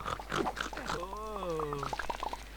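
A pig oinks from up on a castle in the Lego City Undercover video game, a run of short nasal grunts and squeals over a steady low hum.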